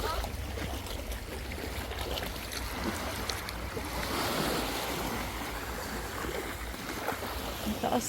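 Steady wash of waves at high tide, a continuous broad roar of surf with faint voices and background noise mixed in.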